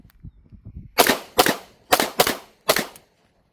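Several sharp, crisp mechanical clicks of an Avidity Arms PD10 pistol trigger resetting close by, some in quick pairs, preceded by a few softer faint taps.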